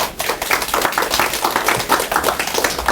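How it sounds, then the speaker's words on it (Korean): A lecture audience claps together at a motivational talk, a steady dense patter of many hands filling the room for the full stretch without talk. "우리 모습 박수 한번 칩시다"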